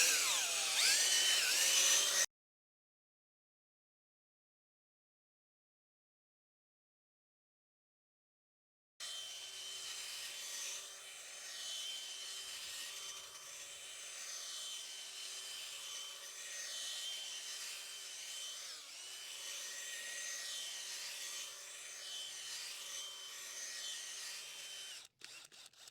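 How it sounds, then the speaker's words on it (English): A power auger grinds side to side, breaking up soil in a garden bed while planting, a steady moderate whirring drone that cuts out briefly near the start, then runs on without speech. "Then I'm going to take the auger and move it side to side."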